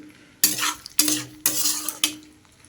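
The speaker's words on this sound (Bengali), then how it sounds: "ঢেকে ঢেকে মশলার সঙ্গে ফুলকপিটাকে কষবো" Cauliflower florets sautéed with spices in a pan, stirred in four distinct scraping strokes over a steady sizzle, close and fairly loud with no voices.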